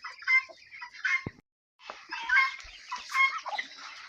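Ducks quacking and squawking close by in short, busy bursts among weeds, with a brief pause midway before the chatter of the fowl resumes.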